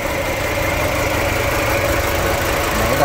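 A 2011 Chevrolet Lacetti with a four-cylinder 1.6-litre engine idles smoothly and steadily, close by, giving an even, continuous mechanical hum with no talking over it.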